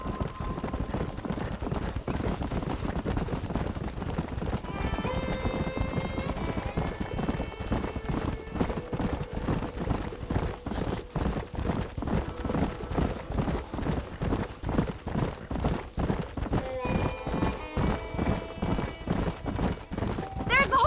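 Horses galloping in Red Dead Redemption, a fast continuous drumming of hoofbeats with whinnies breaking in twice, loud and close, while voices talk over parts of it.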